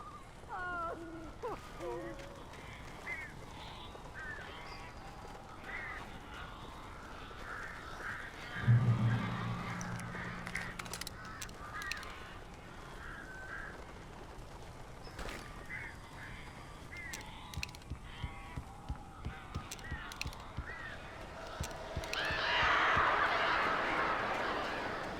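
Birds in the Alan Wake game give harsh honking and cawing calls, scattered through a tense ambient background with flutters and brief sharp sounds, alongside spoken voices.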